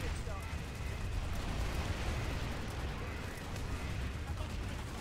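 Explosions in the video game PlanetSide: a dense, continuous roar of blasts and crackling gunfire, loud and unbroken for the whole stretch with no gaps between hits.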